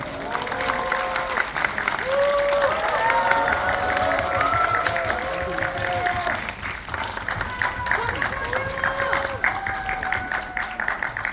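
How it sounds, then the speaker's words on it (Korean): An audience applauds steadily throughout as actors and the director come on stage at a film screening talk, a dense wash of clapping with scattered cheers and voices mixed in. "뜨거운 박수 부탁드릴게요."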